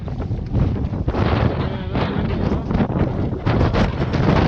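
Strong wind blowing across a ski mountain near Vail Pass, a steady broadband rush buffeting the microphone with gusty surges throughout, loud and close.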